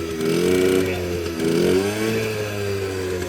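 A Yamaha dirt bike, a YZ250 or QT50, runs after repair in a workshop, its engine buzzing loud and close with rising and falling revs in a steady drone.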